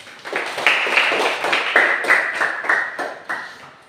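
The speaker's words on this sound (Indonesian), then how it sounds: "Tepuk tangan dulu." A small group clapping hands for a student group after its discussion presentation, about a dozen uneven, close claps with slight ringing tones over roughly four seconds.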